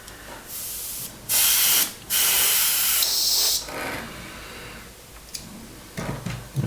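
Airbrush spraying gloss paint onto an Airfix 1/24 scale Spitfire Mk IX engine mount comes in several loud hissing bursts of one to two seconds each, separated by short pauses and fainter puffs.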